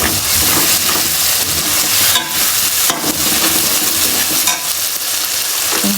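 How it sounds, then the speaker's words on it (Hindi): Tomatoes and spices fry loudly in a pan while being stirred, a dense steady sizzle broken by occasional scraping clatters of the spoon, close and continuous. "हमने अपने मसाले को अच्छे तरीके से भूनना ही करना है"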